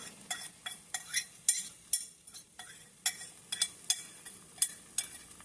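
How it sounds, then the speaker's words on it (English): A spoon scrapes and clinks against a pot while strawberry blueberry jam without pectin is stirred, a close, irregular series of sharp metallic taps and scrapes over a faint low simmer. "as this is in the pot, you have to stir it constantly"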